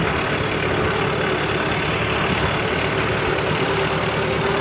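A tractor engine runs steadily and loudly from inside the cab while riding, a dense continuous rumble with no pauses and no voices.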